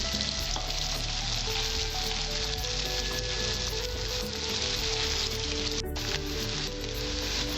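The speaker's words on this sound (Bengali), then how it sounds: "আমার উচ্ছাগুলো ভাজা হয়েছে এবার আমি তুলে দিচ্ছি" Bitter gourd frying in hot oil makes a loud, continuous close-up sizzle with dense crackling throughout, and no one speaks.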